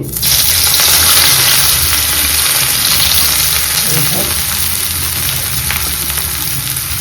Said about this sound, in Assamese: তো পিঁয়াজখিনি আমি লাইট ব্ৰাউন হোৱালৈকে অলপ ফ্ৰাই কৰিম।